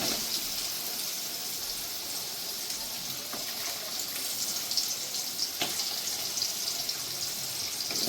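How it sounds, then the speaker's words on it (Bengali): Potatoes frying in hot oil alongside dry red chilli and bay leaves for a mixed vegetable dish, giving a steady, even sizzle across the whole stretch with a couple of faint clicks and no voices. "আলুটা একটু ভেজে নেবো আগে।"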